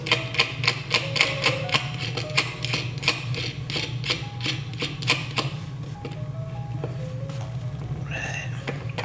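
Rapid metallic clicks and ratcheting from a bolt and nut being tightened on sliding barn door hardware, close up, with a steady low hum underneath.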